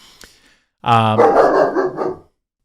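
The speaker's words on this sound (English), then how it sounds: "I just heard the dog bark downstairs." A dog barks in a quick burst of several harsh, close barks that blur together, following a brief faint sound and a short pause.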